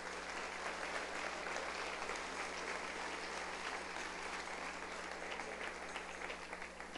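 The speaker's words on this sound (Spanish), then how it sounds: "démosle un aplauso al Señor" Dense, sustained applause from a large church congregation fills the whole stretch without a break, steady and fairly loud.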